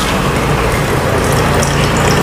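Water is wrung out of a soaked sanitary napkin, a loud, close, continuous wet gushing and crackling that lasts without a break.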